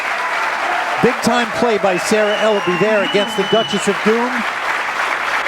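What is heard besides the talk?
crowd applauding a pool shot in East Peoria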